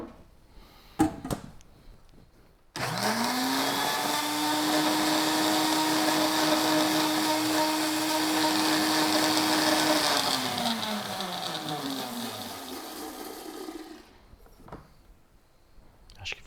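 A blender making corn juice starts abruptly, whirs at a steady high pitch for several seconds, then winds down, with clicks before and after.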